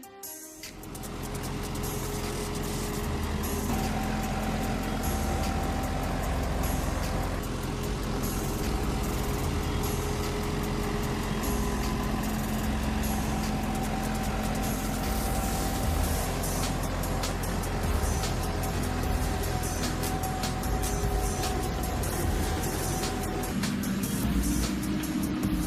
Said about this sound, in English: Trucks loaded with potatoes are ready to take the potatoes to the factory.